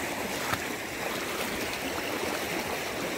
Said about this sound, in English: the current is swift and it's at my shin